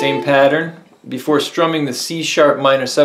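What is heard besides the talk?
None of the usual background noises is heard.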